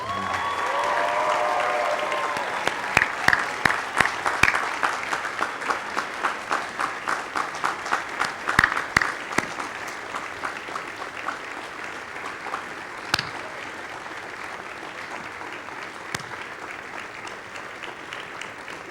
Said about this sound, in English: thank them with a hearty round of applause